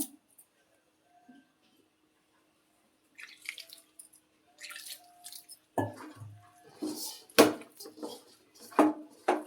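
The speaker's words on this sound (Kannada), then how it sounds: "ಈಗ ಇದಕ್ಕೆ ನೀರು ಎಷ್ಟು ಬೇಕೋ ಅಷ್ಟು ಸೇರಿಸ್ಕೊಬೇಕು" Water is poured into rice flour for akki rotti dough. After near silence come irregular splashes, drips and light clinks of a vessel, growing louder toward the end.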